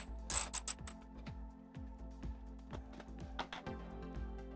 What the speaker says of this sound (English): First step on this side is to remove the side cover bolt with the 8mm socket.